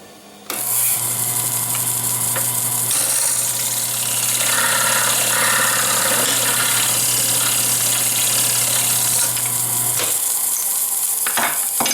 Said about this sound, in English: I'm just going to shave the bottom with the parting tool a little bit, and then I can sand it.